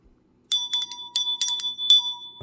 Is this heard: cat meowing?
no